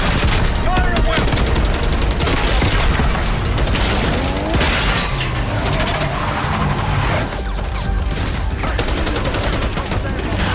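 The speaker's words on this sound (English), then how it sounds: "Fire at will." Dense, continuous gunfire from a Call of Duty Black Ops 6 battle, rapid bursts of shots layered with booms and sustained loud combat noise throughout.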